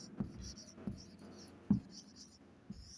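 Chalk or marker scratches across a classroom board in short strokes with light taps, close and quiet, with a few sharper knocks spaced through the writing.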